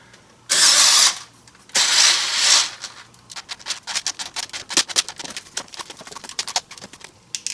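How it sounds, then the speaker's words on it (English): A 10mm socket ratchet clicks in a rapid, uneven stream while tightening parts of a stainless steel airbox on a DeLorean. Two loud rushing bursts come first. "Then we'll go ahead and use a socket to tighten it down."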